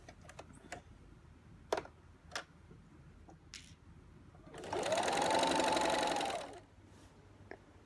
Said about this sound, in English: Join the corners, pin it, and start sewing at the end of the 3-inch stitching line.